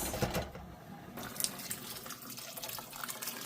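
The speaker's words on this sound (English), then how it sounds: "Add some more water." Water poured into a cooking pot of pinto beans, a faint, steady trickling and splashing up close, with a brief sharper splash early on.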